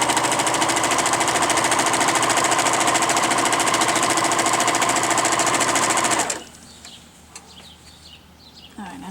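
A Singer sewing machine with a tension problem runs at a fast, steady whirring rattle for about six seconds, loud and close, then stops abruptly, leaving quiet room noise with faint handling sounds.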